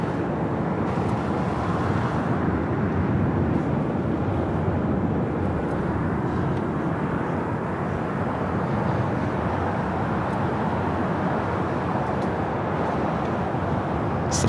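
A Boeing 767-300ER airliner bound for JFK at LAX produces a steady, loud broadband jet roar that holds evenly with no speech.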